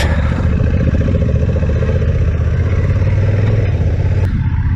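A 2022 Honda NT1100 DCT motorcycle rides along the road, its engine drone and wind rush loud and steady from the rider's position, with no break in the roar.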